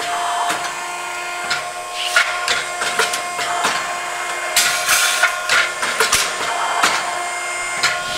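A National NH5210 hydraulic shear, rated 10 gauge over 4 feet, cuts short pieces of sheet metal in quick succession, with a steady machine hum broken by repeated sharp metallic clacks of the blade.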